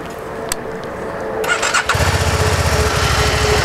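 A Can-Am Spyder STS three-wheel motorcycle cranks briefly with a few clicks, then its engine fires and settles into a steady throbbing idle, loud and close.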